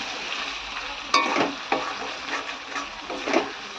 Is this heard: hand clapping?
no